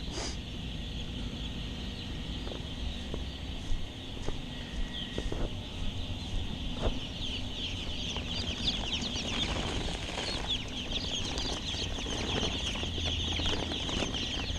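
Broiler chicks are placed into a poultry house being readied for 30,000 birds, filling the space with a constant chorus of high peeping and cheeping. Scattered rustles and soft knocks sit beneath it, and no one speaks.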